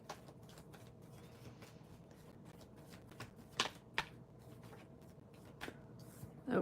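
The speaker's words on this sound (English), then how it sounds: "Let me just shuffle a little bit more." Tarot cards being shuffled by hand during a live reading session, a soft continuous papery riffling with a few sharper snaps and taps, close and fairly quiet, with no talking over it.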